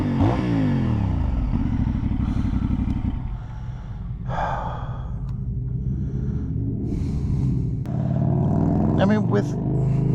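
A 2024 CFMoto 450SS motorcycle engine runs loud and steady nearby, its low drone shifting in pitch as it revs up and settles, with wind and road noise mixed in.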